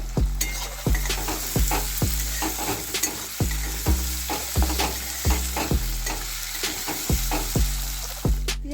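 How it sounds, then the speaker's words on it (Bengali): Sliced onions frying in hot oil for a Bengali cabbage and prawn dish: a steady, loud sizzle broken by regular scraping strokes of a spatula stirring the pan about once a second, with no voices. "এবার আমি তেলেতে পেঁয়াজটা দিয়ে দিচ্ছি দুটো পেঁয়াজ আমি কেটে রেখেছিলাম পেঁয়াজটাকে একটু হালকা ভাজবো"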